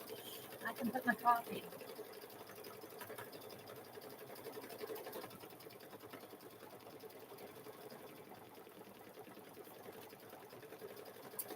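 A home embroidery machine steadily stitching out a chicken quilt block in the hoop, a continuous mechanical hum with a brief louder burst near the start, while someone talks intermittently over it.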